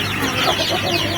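Chickens being raised on a farm cluck steadily and fairly close, in a dense, continuous stretch of overlapping calls with no talk.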